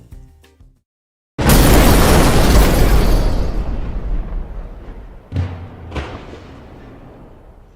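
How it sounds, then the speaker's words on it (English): A rendered explosion effect lets out one loud, sudden boom that rolls into a long roaring decay, followed by two smaller bursts a few seconds later, with no talking. "we are completely done the explosion. Let's render it and check out the final product."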